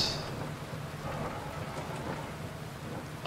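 Steady rain hisses in the background of a rally video game, a soft, continuous wash with a low rumble running underneath.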